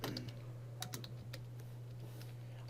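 Keys clatter on a computer keyboard in a few quick, faint taps over a steady hum, no talk.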